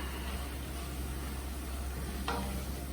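A spiced potato ragda being stirred in a pan with masala and oil, giving a steady low sizzle and soft scraping throughout, with one brief sharper scrape near the end; no voices.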